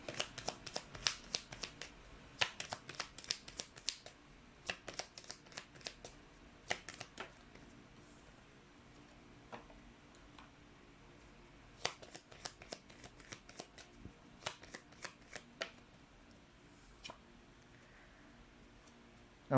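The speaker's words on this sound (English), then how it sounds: "let's pull up another set of cards here." Tarot cards shuffled and pulled during a reading, with bursts of crisp riffling and flicking clustered in short runs and separated by quieter pauses, close and fairly faint with no talking.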